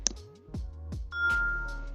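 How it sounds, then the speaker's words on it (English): A UniFi Doorbell Lite rings with a short series of clear, bright electronic chime tones, near and distinct with quiet gaps between them. "And here's what the doorbell sounds like and looks like."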